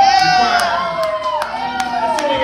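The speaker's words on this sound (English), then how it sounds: "Give yourselves a round of applause right up front here." A crowd at a live funk gig in the Islander Bar and Grill, Pawleys Island, cheers and whoops loudly for a short burst while a sustained instrument tone rings underneath.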